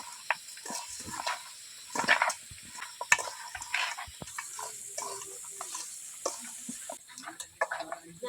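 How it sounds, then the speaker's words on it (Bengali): Spice paste with ginger, garlic and oil being worked by hand into country chicken meat: soft, wet squelching and stirring in irregular bursts, fairly faint, with a light background hiss and no voices. "মাংসর সঙ্গে মশলাটা বেশ ভালো করে মাখিয়ে নেব"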